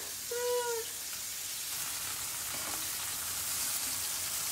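A soft, steady sizzle of fish frying in oil in a pan, with a brief tonal squeak near the start.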